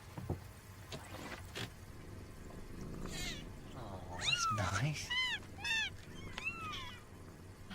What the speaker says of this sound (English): Hello? Kittens.